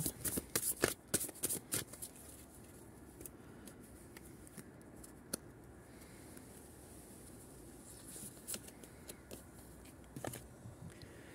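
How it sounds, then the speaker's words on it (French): Oracle cards shuffled by hand in a quiet room, a burst of quick riffling rustles at the start, then softer intermittent flicks and snaps of the deck, with no talking. "Je vais vous tirer une carte d'alchimie de lumière."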